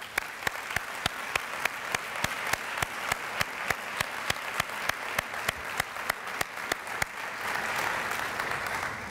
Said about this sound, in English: really deserve a big round of applause